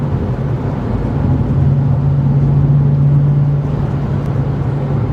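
A 2007 Mustang GT with a 3-valve V8 cruises down a country road, its engine a loud, steady low drone and hum heard from inside the car.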